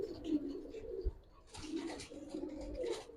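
Giribaz pigeons coo in a loft, soft repeated throaty calls close by, with low rustling and handling noises between coos.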